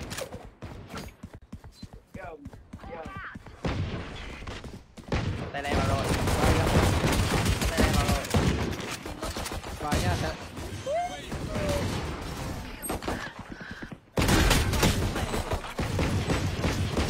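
Bursts of video game gunfire crackle and rattle through a dense, loud mix, with a brief pause midway before the shooting resumes; people talk over much of it.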